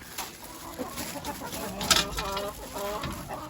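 Backyard chickens cluck and murmur nearby while being fed greens, a loose scatter of short clucks and soft chatter with one sharper squawk in the middle.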